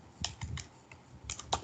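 Computer keyboard keys clatter while code is typed for C programming, a few quick bursts of clicks with short pauses, close and moderately quiet with no talking.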